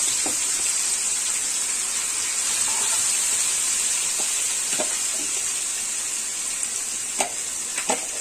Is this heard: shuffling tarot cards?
no